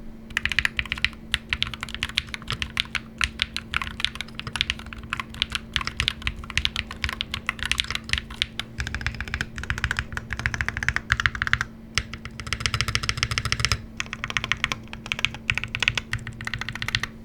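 Steady rapid typing on an AMICIS 65HE aluminum gaming keyboard with silicone backing, a dense run of close, crisp keystroke clicks with brief pauses, alone over a faint constant hum.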